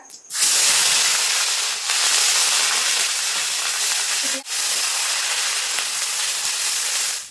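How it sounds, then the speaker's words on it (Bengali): Onion paste drops into hot oil already seasoned with cumin and bay leaf, setting off a loud, steady hissing sizzle that briefly dips twice, with no talk. "এবার দিয়ে দেবো পেঁয়াজ বাটা"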